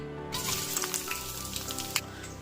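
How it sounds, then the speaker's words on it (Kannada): Onions sizzle and crackle steadily in hot oil in a pan for a mutton curry, close and continuous with scattered pops. "ಈಗ ನಾನಿಲ್ಲಿ ಮೊದಲಿಗೆ ಒಂದು ಬಾಣಲಿಗೆ ಎಣ್ಣೆ ಹಾಕ್ಕೊಂಡಿದ್ದೀನಿ. ಇದಕ್ಕೆ ನಾನು ಈರುಳ್ಳಿ ಸೇರಿಸ್ಕೊತಾ ಇದ್ದೀನಿ"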